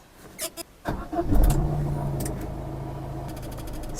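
A used car's engine cranks briefly and then catches, settling into a steady, close idle hum with some faint clicks and rattles around it.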